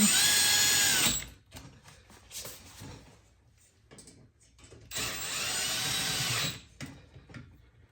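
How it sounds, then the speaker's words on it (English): A power drill whirs in two sustained bursts, driving a screw into a Milwaukee Packout toolbox bracket, with quieter clicks and handling noises between the runs. "So we will just use a power tool now."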